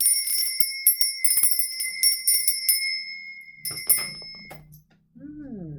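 A small handheld lady bell rings brightly with rapid, shimmering repeated strikes, loud and close, fading out after a few seconds before a brief voice and a low sound at the end.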